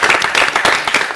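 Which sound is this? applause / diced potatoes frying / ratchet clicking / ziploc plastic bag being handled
applause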